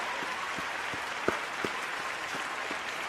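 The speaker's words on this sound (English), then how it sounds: "Can we get some applause going?" An in-studio audience applauds after an artist's freestyle on a talk show, a faint, steady patter of claps with a couple of sharper hits, and almost no talking.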